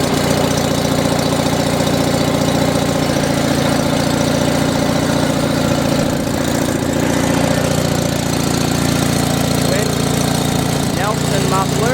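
A riding lawn tractor's small engine runs loud and steady, chugging and idling without pause close by.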